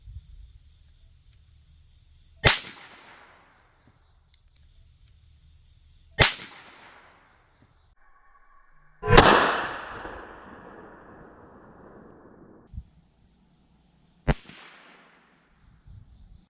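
Several sharp small-caliber pistol shots from compact mouse guns fired at watermelons, including .22LR, .22WMR, .25ACP, .32ACP and .380ACP, ring out singly and widely spaced, each a loud crack with a short decaying tail, with quiet pauses between them.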